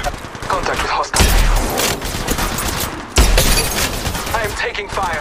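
Loud, close gunfire from the video game Apex Legends, with two dense bursts of rapid shots and impacts and a game voice talking over the firing.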